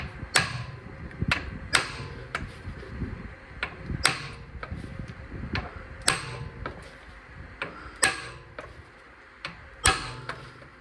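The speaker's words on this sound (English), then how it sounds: "of the impact driver, and it will break loose the brake retainer screw" Hammer blows on an impact driver break loose a brake retainer screw on a Mercedes E 220 BlueTEC W212, giving sharp, loud metallic strikes spaced roughly one to two seconds apart with a workshop hum between them.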